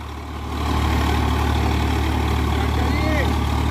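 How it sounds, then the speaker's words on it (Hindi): A Swaraj 855 tractor pulling a harrow in a field runs with a steady, loud low engine drone throughout, while someone talks over it. "चाचा जी का ट्रैक्टर भी भाई दमदार है।"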